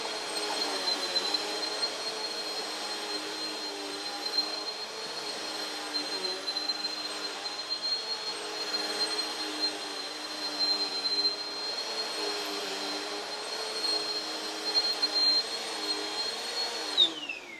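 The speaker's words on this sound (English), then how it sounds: "So I'm gonna turn this on. There you go. You can hear that powerful suction." Vacuum cleaner running continuously with strong suction, a loud steady whooshing roar with a high whine, close and unbroken throughout.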